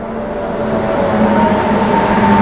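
A Banaras–New Delhi express train rumbles steadily past while overtaking, a continuous low roar with faint metallic tonal whine that slowly grows louder.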